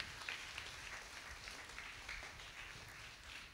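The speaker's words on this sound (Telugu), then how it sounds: "ఫాదర్ గారిని అభినందిస్తూ మరి ఒక మారు గట్టిగా చప్పట్లు కొడదాం." A church congregation claps for a priest in a steady wash of applause that holds at an even level throughout, fairly soft and somewhat distant.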